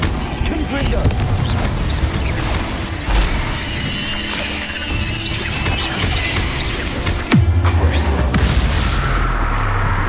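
Confringo fire spell in the Hogwarts Legacy video game, loud booming blasts and crackling bursts layered over dense, continuous battle noise, with a voice calling out over the top.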